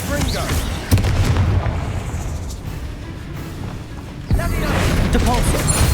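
A Confringo fire spell blast in the Hogwarts Legacy video game, with sharp booming explosive hits near one and four seconds over a dense, loud rumbling background.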